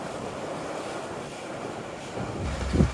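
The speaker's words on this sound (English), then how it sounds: "To now we're doing 20 knots of wind." Strong wind of about 20 knots roars at sea aboard a sailing boat, a steady broadband rush with rumbling gusts into the microphone that swell near the end, with no voices.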